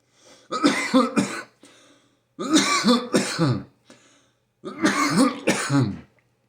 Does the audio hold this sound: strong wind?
no